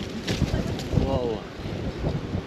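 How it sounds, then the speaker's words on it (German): Strong gusting wind near Bad Ischl, Austria, roars across the microphone of a cyclist on a gravel bike in heavy low rumbling buffets, continuous and loud with no talking. "Und richtig windig."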